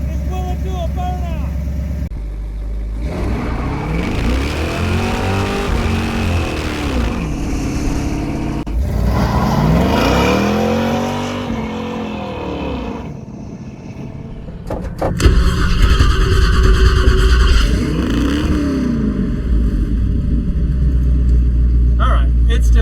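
A 1965 Chevy Nova wagon with a stuck gas pedal revs hard in repeated rising and falling engine surges during a burnout attempt, loud and close, with people talking over parts of it.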